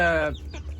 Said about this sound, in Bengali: সিলভার সেব্রাইট এটা একটা ছোটো জাতের মুরগি ইংল্যান্ডের ব্রিড